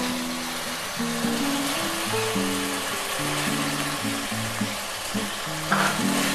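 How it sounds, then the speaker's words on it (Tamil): Tomatoes sautéing in a pan with ginger and garlic, making a steady, even sizzle that runs throughout over a low tonal hum, with a slight scrape near the end. "இப்போ தக்காளி போட்டு வதக்கிக்கலாம்"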